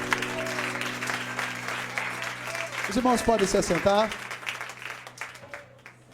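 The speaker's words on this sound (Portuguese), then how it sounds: "aplauda Ele nessa noite" A church congregation applauds steadily at an evening service, a continuous crowd clatter that a voice talks over midway before the clapping fades out.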